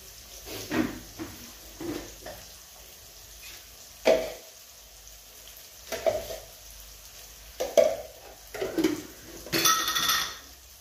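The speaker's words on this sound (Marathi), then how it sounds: "व्यवस्थित तेलामध्ये तळून घ्यायचं आता आपण" Potatoes frying in oil in a pan, heard as a soft steady sizzle broken by repeated stirring scrapes and utensil clatters against the pan at irregular intervals.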